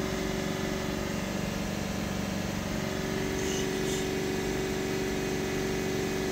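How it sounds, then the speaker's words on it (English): A Vauxhall Combo van engine with a persistent DPF fault is held at steady raised revs around 3000 RPM, a constant loud drone with even harmonic hum running throughout. "hold the revs up, say 3000 RPM."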